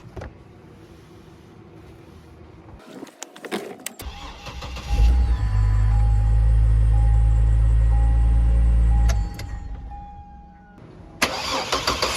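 A car engine is started with a portable emergency jump starter, cranks briefly, then catches and runs loudly for several seconds before shutting off, with clicks and an electric window whirring near the start and end.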